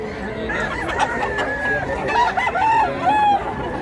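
Roosters crow repeatedly at a cockfighting market in Mantalungon, Cebu, with several drawn-out calls overlapping amid clucking birds and murmuring crowd chatter nearby.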